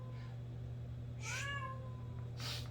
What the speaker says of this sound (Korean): 우리 사무실 고양이가 너무 많아가지고